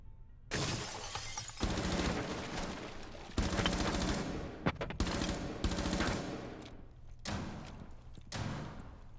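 Rapid gunfire in a first-person shooter video game, loud repeated bursts and crackling volleys with short gaps, ending in a final hip-fired kill.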